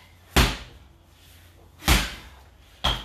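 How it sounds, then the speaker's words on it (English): A heavy slam ball smashed onto a concrete floor during a bootcamp workout, three loud separate thuds with pauses between them, close by and without voices. "I want to see chunks of concrete flying around the ground in the air from you smashing the ball on the floor."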